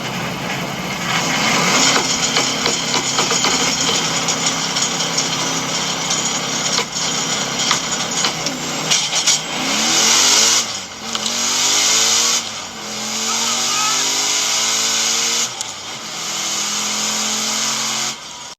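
A turbocharged Dodge Challenger Scat Pack with a fully built 6.4 liter engine revs hard, its sharp climbing engine notes rising and falling through several pulls, loud and close with no talking.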